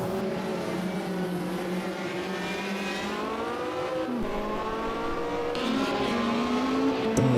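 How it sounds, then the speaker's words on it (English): An Alpine race car at a European hill climb championship round accelerates toward the hairpins, its engine climbing in pitch with gear changes, loud and sustained with no voices. "And towards the hairpins he comes in the Alpine"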